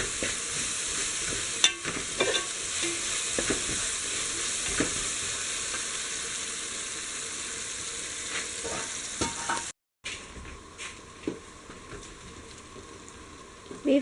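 Capsicum frying in a pan for Kerala-style beef fried rice, stirred steadily: a continuous bright sizzle with scraping and clinking of the spoon, close and loud, briefly cut off near the end before resuming.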